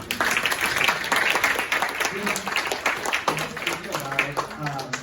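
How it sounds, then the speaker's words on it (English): An audience at a forum breaks into applause, a dense patter of clapping from a crowd that runs throughout while a voice speaks over it. "that deserves a round of applause, please"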